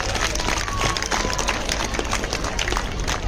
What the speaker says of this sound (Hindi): चलो एक जोरदार ताली आपके खुद के लिए।